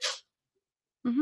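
A single short sneeze bursts out at the start, followed by a pause and then a voice speaking briefly.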